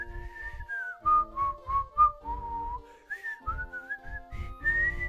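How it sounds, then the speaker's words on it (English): A clear whistled melody rises and falls in phrases over soft rhythmic music from the Pokemon Light Platinum video game, with a steady low beat underneath and no talking. "I love this music. This is like my favorite music in third gen."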